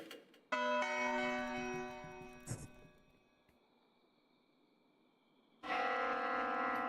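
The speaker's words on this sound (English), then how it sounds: "The sound of a bell suddenly echoes in my mind" A deep bell from the video game Spirit Hunter: Death Mark II tolls loudly with a long ringing decay, then a second strike rings out at the end, with no voices.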